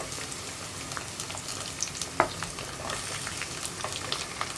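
Raw plantain pieces fry in a pan for a pumpkin and plantain curry, giving a steady close sizzle with scattered crackles and an occasional clink of a stirring utensil, no voices.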